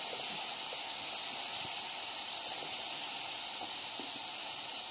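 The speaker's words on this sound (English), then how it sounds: "Brown the meat, brown the meat." Ground beef browning in a hot pan, giving a steady, loud sizzling hiss that holds evenly throughout with only faint clicks beneath it.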